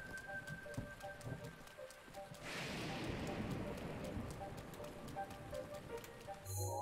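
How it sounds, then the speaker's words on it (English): Thunderstorm rain in Zelda: Breath of the Wild starts faint, then swells into a fuller, steady downpour halfway through, with soft tonal game sounds drifting over it. "Thunderstorm is really complicating matters"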